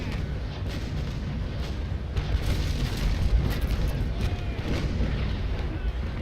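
A sailing warship fires its cannon broadside in the Naval Action naval battle game, a continuous rumbling barrage of booms rolling through the whole stretch at loud, steady volume.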